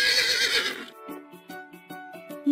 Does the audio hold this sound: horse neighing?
yes